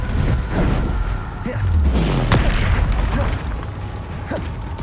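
Bombarda explosion spell in Hogwarts Legacy, heard as low booming bursts and pops, including a sharp crack near the middle, amid continuous combat noise with no voices.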